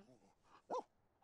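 A dog in The Sims video game gives a single short bark among soft in-game chatter and sounds, quiet overall with the bark standing out briefly.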